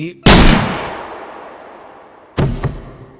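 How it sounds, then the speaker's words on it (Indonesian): A loud gunshot rings out and echoes into a long fading tail, then two more sharp shots follow in quick succession about two seconds later. "ada insiden di mana terdengar suara tembakan"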